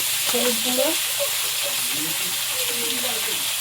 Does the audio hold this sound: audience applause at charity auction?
no